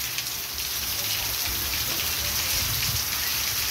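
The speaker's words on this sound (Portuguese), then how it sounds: "Boa chuva, pessoal, graças a Deus," Steady rain falls on a street, a dense even hiss of drops on the pavement that holds at a constant moderate level throughout, with no voices.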